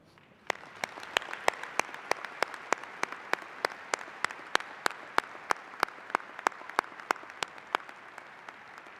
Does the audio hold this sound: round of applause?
yes